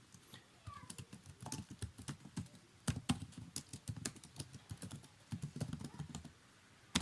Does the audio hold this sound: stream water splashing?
no